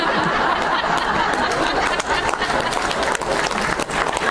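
Applause from a book-tour audience in St. Louis, with dense steady clapping, scattered laughter and chuckles mixed in throughout, loud and sustained with no pause.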